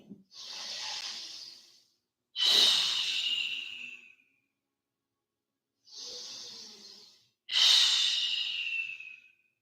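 Deep yoga breathing, with two full cycles of slow, forceful breaths through the nose or mouth, each a soft airy inhale followed by a louder, hissing exhale, close and alone with silent pauses between.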